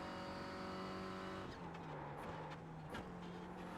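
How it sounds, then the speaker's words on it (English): Clio Cup race car lapping Spa in the iRacing sim, steady engine drone with tonal whine that dips around the midpoint as the tires briefly squeal near lock-up under braking, then the engine note resumes. "You hear the tires almost lock up there."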